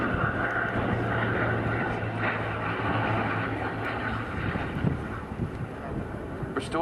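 Vintage Battle of Britain Memorial Flight aircraft, restored to flying condition in 1968 and in her 71st year, drones steadily at a distance with a low engine hum, heavy wind rumble over the microphone throughout.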